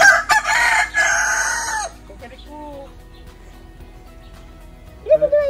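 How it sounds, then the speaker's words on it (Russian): Rooster at the Ramat Gan Safari in Israel crowing once loudly up close, followed by a quieter stretch with faint clucks and a brief voice near the end. "Что тут петушара тут раскукарекался?"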